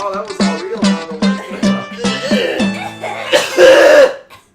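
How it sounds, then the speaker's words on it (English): Several people cough in quick succession, a rapid string of sharp, close coughs followed by a throat clearing at the end. "And listen to everybody cough."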